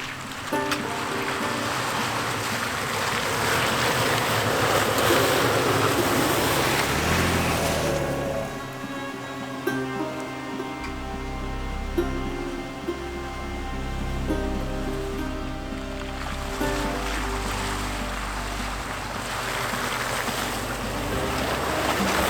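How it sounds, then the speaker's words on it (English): An off-road vehicle plows through a water crossing on a snowy Vermont backcountry trail. A loud rush of splashing water gives way to a steady engine drone, then another surge of churning water and splashing. "Notice how we're taking a detour through this water crossing."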